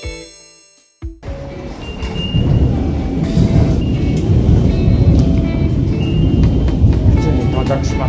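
Steady rumbling train noise fills the clip after a brief quiet start, a continuous low roar of wheels and carriage with faint squeaks, heard from inside a train travelling to Fuchu, Japan.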